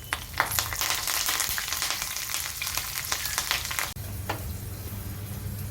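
Tempering seeds, dried red chillies and curry leaves fry in hot oil in a pan on the stove while making garlic chutney, a steady close sizzle with light crackles and no talking.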